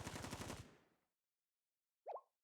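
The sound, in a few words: gunfire in Blue Archive video game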